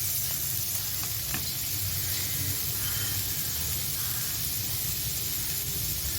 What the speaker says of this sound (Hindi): साथ में ही इसके ये मैं शलजम डाल रही हूँ और इन दोनों को फ्राई कर लेती हूँ।